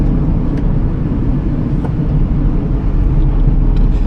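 Steady low rumble of road and engine noise from inside a moving car cruising at a moderate speed, constant and loud with no talking.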